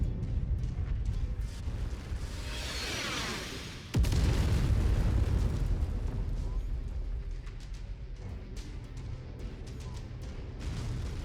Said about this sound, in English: I do not want the artillery shelling me while I'm trying to not hang around and kill things.